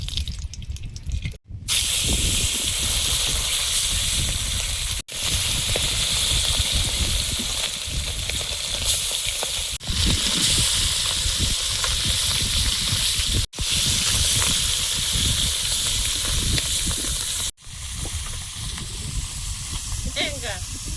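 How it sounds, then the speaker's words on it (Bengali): Koi fish frying in hot oil hiss and spatter loudly and continuously, broken by a few brief silent gaps, with voices faintly present in the background. "মাছগুলো ভেজে নেব।"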